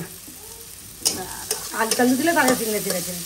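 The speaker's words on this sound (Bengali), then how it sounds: "মা এখন রান্না করছে গেড়ি" Snails stir-fry with garlic and onion in a pan in a village kitchen, quiet at first, then scraping stirring strokes and a rising sizzle that stays close and fairly loud.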